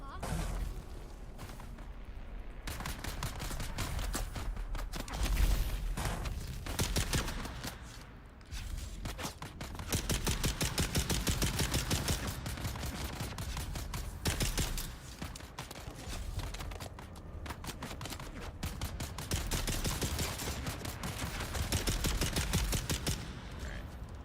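Turret gunfire rattles almost continuously in the video game Dune: Awakening, dense rapid bursts at close range with occasional booms, while a voice talks intermittently over it.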